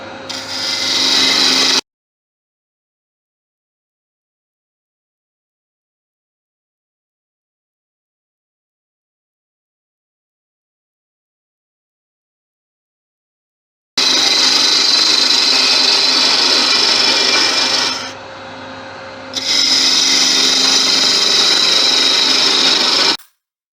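A wood lathe turns a chalice while the tool bites into spinning wood and begins to drag as it dulls. A loud, steady grinding hum plays in two stretches, separated by a long silence.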